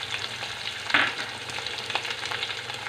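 Beans and carrot sauté in a hot pan, a steady soft sizzle with a brief sharp scrape of stirring near the one-second mark, close and moderately quiet.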